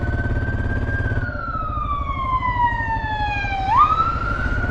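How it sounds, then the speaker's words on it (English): An ambulance siren wails through heavy Mexico City traffic, its loud tone sweeping slowly downward as it passes, then jumping back up, over the steady rumble of nearby engines. "we'll pull over for this ambulance."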